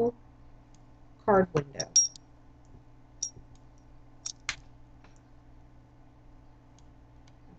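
Several sharp computer mouse clicks in a quick cluster, then a few isolated single clicks, made while building a watermark layout in a digital scrapbooking program; a person talks quietly in the background.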